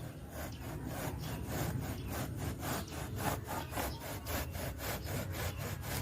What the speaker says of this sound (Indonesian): Pakainya gergaji besi ya, biar enak motongnya.